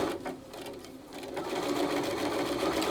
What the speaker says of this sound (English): at the end, I just backstitch it about 4, 5, 6 stitches